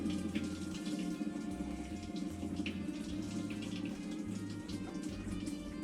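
A Kenmore washing machine fills with hot water, a constant splashing gush with a low mechanical hum underneath.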